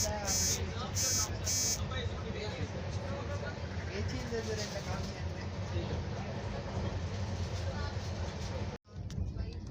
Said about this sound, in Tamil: ட்ரெயின் அப்படி பறந்து செம்ம ஸ்பீடில் போயிட்டுருக்கு